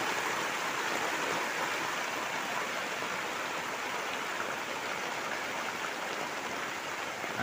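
Heavy rain pours down in the Sundanese countryside, a dense, steady hiss of water on surfaces that stays even and loud throughout with no voices.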